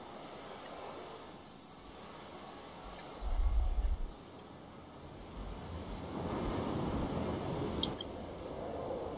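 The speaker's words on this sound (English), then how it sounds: "I heard some wind." Soft outdoor wind from the exploration video game Dear Esther, faint rushing and gusting that swells gradually toward the end, with a brief low rumbling thump partway through.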